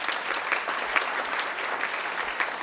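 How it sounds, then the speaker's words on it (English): Sustained audience applause from a crowd at a statewide Keep Louisiana Beautiful awards broadcast, an even wash of clapping throughout with no speech over it. "Please give them a round of applause."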